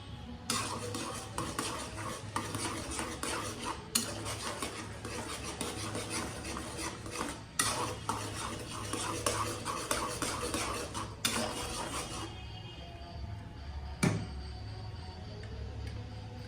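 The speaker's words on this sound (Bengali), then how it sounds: "আমি এই পর্যায়ে দিয়ে দিচ্ছি আস্ত পাঁচফোড়ন" Whole five-spice being stirred in a pan for a sweet-and-sour olive pickle: steady scraping and rubbing of a utensil against the pan, with a few sharp clinks, continuous and close, no talking.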